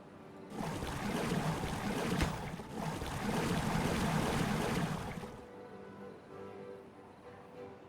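Water flowing in the Timberborn video game, a steady broadband rushing that starts abruptly, holds for about five seconds and then drops away to a quieter ambient hum.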